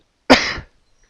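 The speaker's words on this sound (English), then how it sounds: "It made me cough." A single short, sharp cough, loud and close, bursting out and fading within about half a second, followed by near silence.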